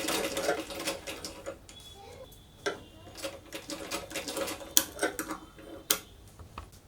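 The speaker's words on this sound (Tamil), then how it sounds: "ஷோல்டருக்கு மட்டும் டபுள் ஸ்டிச் மட்டும் போட்டுருங்க." Sewing machine stitching the shoulder seam of a baby frock, a soft, uneven run of quick ticking needle clicks with short pauses and sharper taps, fairly quiet and with no talking.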